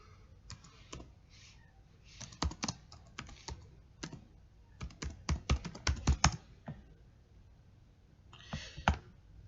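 Irregular bursts of keyboard typing, crisp clicking keystrokes close up, faster in the middle and pausing between runs.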